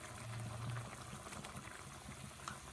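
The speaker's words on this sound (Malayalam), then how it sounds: "അതിലേക്ക് അരപ്പ് നന്നായിട്ട് തിളച്ച് വന്നിട്ടുണ്ട്." Masala paste bubbles and simmers in a pot before beef goes in for a beef-bone and tapioca dish, a soft, faint burble that continues steadily without any talk.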